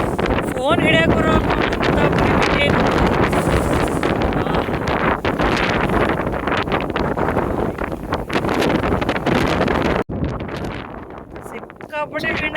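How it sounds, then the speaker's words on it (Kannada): Strong coastal wind at Point Reyes, California, buffets the microphone in a loud, continuous roar that runs almost unbroken, with people talking underneath. "ಸಿಕ್ಕಾಪಟ್ಟೆ ವಿಂಡ್ ಐತಿ."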